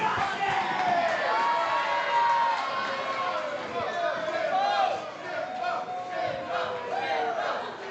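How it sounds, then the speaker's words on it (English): Wrestling crowd at a New Texas Pro Wrestling show cheering and shouting loudly as a wrestler charges in, a dense continuous roar with rising whoops, commentary voices mixed into the noise. "Crowd behind Shimbashi as he charges in"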